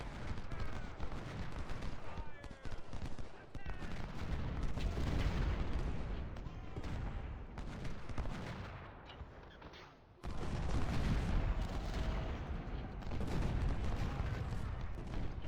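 Cannon and artillery fire in a Ultimate General: Civil War battle at Harpers Ferry, a dense continuous barrage of booms and crackling gunfire with one brief drop near the middle, loud and busy throughout.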